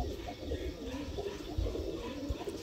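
Pigeons coo at a busy pigeon market, the soft low cooing repeating steadily amid dense crowd noise and faint chatter.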